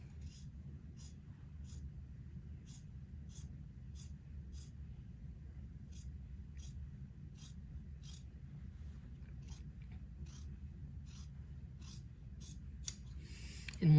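Scissors snip fabric pieces for a daygown in a steady series of short, crisp cuts, roughly one every half second, close and moderately loud over a low constant background hum.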